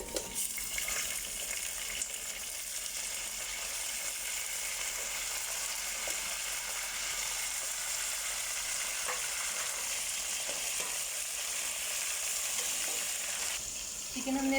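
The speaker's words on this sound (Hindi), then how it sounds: "अब हम इसमें चिकन डाल देंगे" Chicken sizzling and frying in a pan of lightly golden onions for a Karachi-style biryani masala, a steady dense hiss running without a break, with faint stirring and clinks and no talk.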